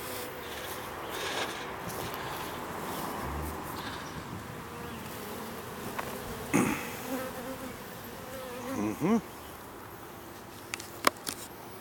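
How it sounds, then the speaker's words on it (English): A dense, continuous buzzing of many bees, around a hive being moved during working hours, fills the scene, with occasional louder drones passing close by. "About 100 bees at a time."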